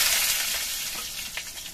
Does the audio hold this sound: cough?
no